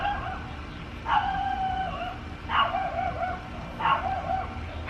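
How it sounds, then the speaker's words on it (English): A dog barks three times at roughly even intervals, each short bark moderately distant and standing clearly above a low, steady background hum. "You hear that dog barking?"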